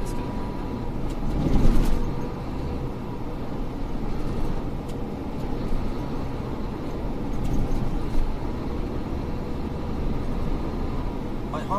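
Steady roar of highway traffic on the Nishi-Meihan expressway heard from inside a moving vehicle, a dense continuous rumble with a brief swell as cars pass in the opposite lane, with talk over it.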